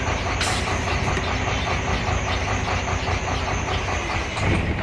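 A Chenglong truck engine runs nearby with a loud, steady diesel rumble and a rhythmic knock, and no other sound is heard over it.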